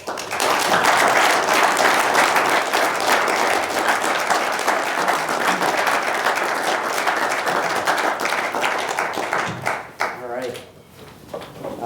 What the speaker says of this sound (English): Please give a loud round of applause to Nick Philippi.